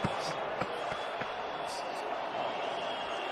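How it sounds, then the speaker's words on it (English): Home crowd booing at a Toronto hockey arena during a Panthers at Maple Leafs Game 7, heard as a dense, steady roar of many voices filling the building, with a commentator talking over it. "More boos from the home crowd here in Toronto"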